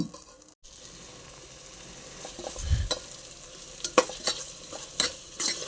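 Vegetables with soft tomatoes frying in a pan for veg biryani, a steady low sizzle with several sharp spatula scrapes and knocks against the pan toward the end, close and without talk.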